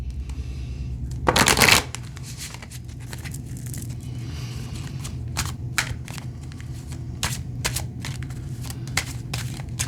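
A deck of rune cards shuffled up close: a brief loud riffle burst early on, then scattered soft flicks, taps and slides of the cards against each other, with no talking.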